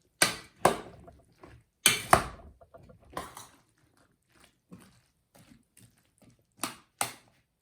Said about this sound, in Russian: Затем перемешиваю